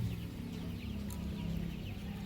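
Steady low clucking from many chickens fills the space, a continuous murmur of poultry with occasional sharper calls, fairly close and unbroken.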